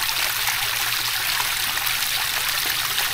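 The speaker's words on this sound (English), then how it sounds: "Enjoy watching the waterfall" Water pours continuously over a small waterfall fed by a homemade DIY pond filter, a close, steady splashing trickle with no voices.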